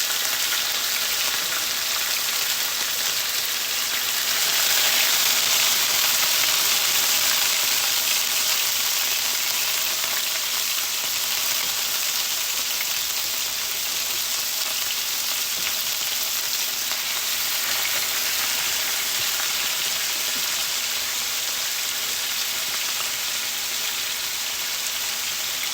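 Chicken thigh meat sizzles steadily in a pan for Asian chicken, a continuous bright crackle of frying fat that holds level throughout with no voices.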